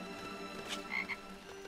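A frog croaking in the Lego Harry Potter video game, a couple of short raspy croaks close over a steady ambient game background.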